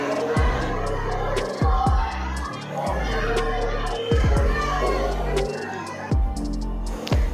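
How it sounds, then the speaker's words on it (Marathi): A large crowd mills at the Tuljapur temple, a steady roar of many voices punctuated by several sharp, booming knocks, close and fairly loud, with chatter running through. "खूप गर्दी होती बघू शकता इकडे तुळजापुरात"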